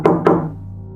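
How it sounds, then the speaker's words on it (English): Two firm knocks on a door, close and loud in a horror story sound effect, evenly spaced, then a fading hollow ring with no voices. "Just as she began to retreat, the knocks came again,"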